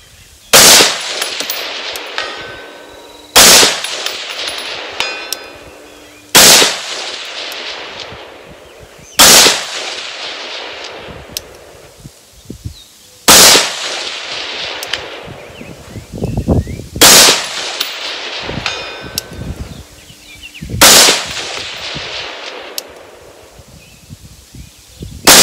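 Eight single rifle shots from an HM Defense 12.5-inch 5.56 monobloc upper at an outdoor range, each a sharp loud crack spaced a few seconds apart, with handling noise and rustling between them.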